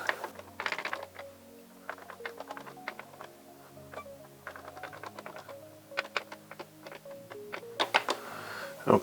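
Keys clatter on a Nintendo Famicom Basic keyboard under repair, a stream of light, irregular close taps with bursts of faster typing near the start and end, alone without speech.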